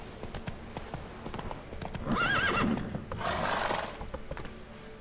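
Roach, the horse in The Witcher 3 video game, whinnies with a wavering, bright neigh amid steady hoof clip-clops, close and fairly loud, followed by a burst of rushing noise.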